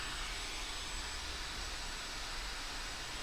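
A Dyson Gen 5 Detect cordless vacuum runs on Eco mode, a steady, airy whoosh that holds even and unbroken throughout, with no voices.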